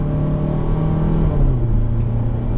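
A 2024 Hyundai Santa Cruz SEL AWD pickup's turbocharged four-cylinder engine drones loudly under load from inside the cabin, its pitch climbing and then settling as it accelerates.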